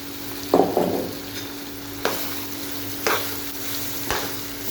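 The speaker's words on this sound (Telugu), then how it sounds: "ఇంకా ఖర్జూరం వేసి ఇలా తిప్పేసుకుని కొంచెంసేపు ఈ నూనెలోని" Dates being stirred in hot oil in a pan for chutney, a low steady sizzle broken by a few distinct scraping stirs of a spoon at roughly one-second intervals.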